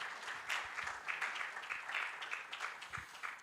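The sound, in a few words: audience applause at a conference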